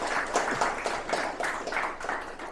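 A small audience at a technical talk gives scattered, modest applause, a loose patter of hand claps in uneven pulses, fairly close and moderately loud.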